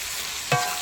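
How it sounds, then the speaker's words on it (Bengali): Tomatoes hit the pan of chicken curry masala with a brief sizzle and stir, a single short burst of frying after a quiet moment. "এর মধ্যে আমি টমেটো দিয়ে দিই, টমেটো দিয়ে ভালো করে আবারও কষিয়ে নেব এটাকে"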